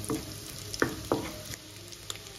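Small onions fry in oil in a pan, giving a soft, steady sizzle close by, broken by a few louder stirring scrapes and clinks.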